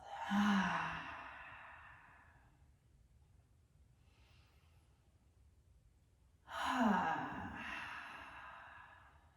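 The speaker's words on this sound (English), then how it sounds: "Nice big inhales through your nose. And exhale out the mouth." Two long, breathy exhales out through the mouth during a gentle beginner's yoga flow, each one loud and close, separated by a quiet pause.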